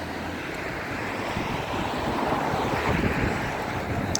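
Surf washing onto the sandy beach at Clacton-on-Sea, with steady wind buffeting the microphone in a continuous broad roar and no voices.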